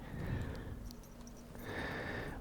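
A horse ridden through a medieval town past a butcher's in the game Kingdom Come Deliverance II, with a soft neigh and light hoof sounds over a steady, quiet ambient bed.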